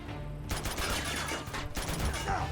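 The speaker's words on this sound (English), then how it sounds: "I'm quickly thrown into another gunfight." A gunfight in the video game Uncharted, with dense bursts of rapid gunfire in two loud volleys separated by a brief lull, close and sharp.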